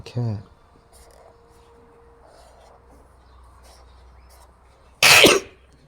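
A single sharp, loud sneeze bursts out near the end, after a short cough or throat noise at the start and a long quiet stretch with a faint background tone.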